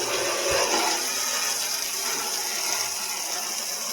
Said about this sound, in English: So I spray up in those flues